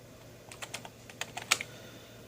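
Keys clack on a computer keyboard in a quiet room, a short run of soft, irregular taps with one sharper strike.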